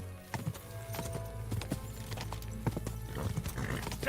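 A horse galloping in Kingdom Come: Deliverance 2 gives out steady, fairly close hoofbeats, with a whinny mixed into the game's ambient sound.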